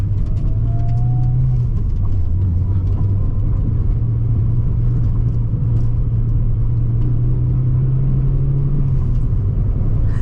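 A dirty Honda car driven on the road, steady close engine drone and road rumble throughout, with a brief rising whine early on and no talk.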